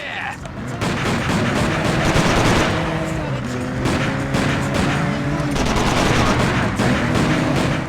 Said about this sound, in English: Good thing Ray has an infinite ammo. Wait, I just shot out a tire on the Olympic